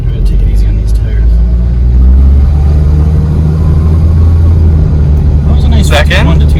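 A 1983 Cadillac Cimarron accelerating and shifting from first to second gear, a loud, close, continuous engine rumble that rises and holds under a steady drone, with voices talking over it near the end.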